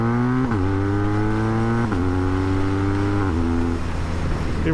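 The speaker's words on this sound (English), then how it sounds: "Now, I'm helping this shift assist by rolling off the gas." A BMW R1200 R motorcycle engine pulls loud and steady, its tone climbing through each gear, then dipping sharply at three quick shift-assist gear changes as the throttle is rolled off, with no voices.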